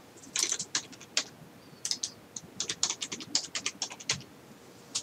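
Someone types on a computer keyboard during a software exercise, with quick uneven runs of crisp key clicks close by. Short pauses break the runs, and no one speaks.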